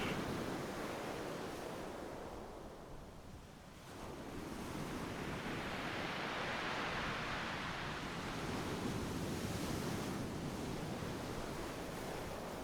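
Ocean waves wash onto a shore in a continuous, soft roar, swelling and ebbing gently with a steady hiss, heard alone and fairly faint.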